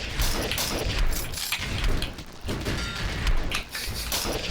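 Rapid gunfire crackles in the video game Fight Crab, dense and continuous bursts with mechanical clatter, loud and close throughout with no talk.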